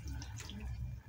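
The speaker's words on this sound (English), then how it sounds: "And I'm adding like" About a liter of water is poured into a cooking pot on the stove for beef stew, making a steady splashing stream that is quiet and close.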